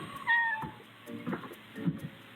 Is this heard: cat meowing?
yes